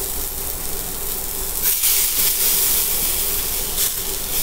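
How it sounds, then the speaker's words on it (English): Wahoo fillets sear in a smoky hot cast iron pan, two pieces at a time, giving a steady broad hiss with brief louder flares as they hit the oil. "I'm gonna go ahead and do 2 pieces of my Wahoo at a time."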